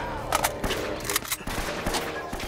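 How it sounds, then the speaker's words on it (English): AK rifle fire in the video game Uncharted: Drake's Fortune: sharp, rapid bursts of shots rattle close by in quick succession, loud and choppy over a short stretch. "Oh, here comes some noise. We got an AK."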